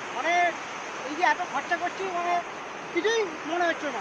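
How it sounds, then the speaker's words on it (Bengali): Water rushes steadily down a mountain stream in Darma Valley, a continuous broadband roar heard beneath voices of people talking nearby. "দেখো জলের স্রোতটা দেখো"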